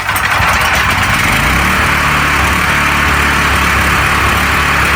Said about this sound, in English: So this is the new motor that we're gonna put in